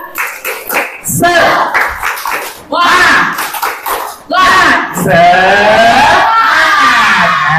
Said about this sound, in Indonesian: Coba kalau tepuk semangat yuk, tepuk semangat